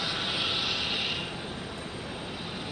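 A WestJet jet pushing back at Phoenix Sky Harbor airport, heard as a steady engine whine and hiss with a high-pitched tone that fades after the first second.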